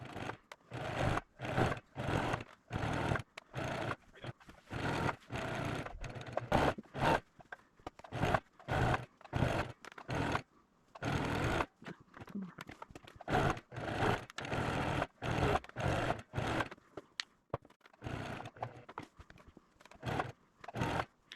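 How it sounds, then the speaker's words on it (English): A sewing machine stitches a perimeter around patchwork pieces in repeated bursts of fast, close mechanical whirring and clatter, each burst separated by a short pause, with no talk. "I am going to sew a perimeter around this."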